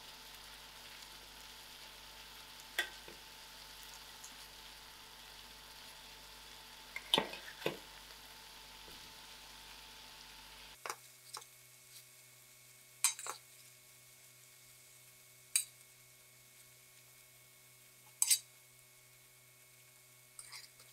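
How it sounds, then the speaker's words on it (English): Potatoes and tomatoes fry in a pan with a steady soft sizzle, broken by occasional clinks of a utensil stirring against the pan, close and moderate; the background shifts partway through. "I will gently stir in the tomato."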